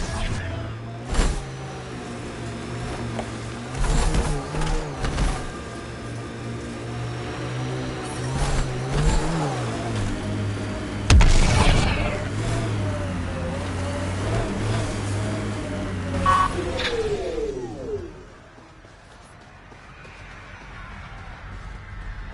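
The six-wheeled Nomad rover in Mass Effect Andromeda drives over desert dunes, its engine droning and rising and falling in pitch with a few sharp bumps, then easing off into a quieter hum near the end.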